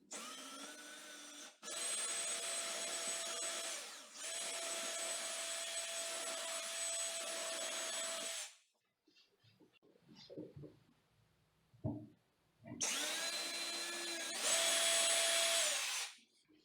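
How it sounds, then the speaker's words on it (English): Power drill with a 1/16-inch bit boring a pilot hole into a bathroom vanity, several close high whining bursts of steady spinning, a quiet gap with faint clatter and handling noises, then another whining run near the end. "So the pilot, I'm using a bit which is a 1/16 of an inch here."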